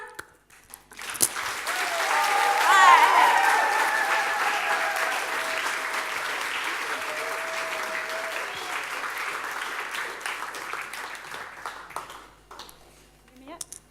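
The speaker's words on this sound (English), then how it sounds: "everybody has to clap" Applause from the audience at an evening show, swelling quickly to a loud, dense clatter of clapping that holds for several seconds, then slowly thins out and fades.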